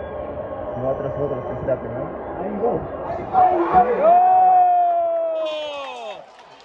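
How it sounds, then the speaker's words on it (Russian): Football fans roar in a stadium crowd at a Dinamo Tbilisi vs Dinamo Minsk U19 UEFA Youth League match around a penalty, a broad crowd wash swelling and cheering beneath a commentator's voice. "Вот вы слышите болельщиков, которые все-таки есть сегодня"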